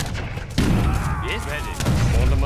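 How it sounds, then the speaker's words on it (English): Booming cannon blasts in Age of Empires III ring out in a busy mix, with a voice speaking over the battle sounds. "That cannon noise."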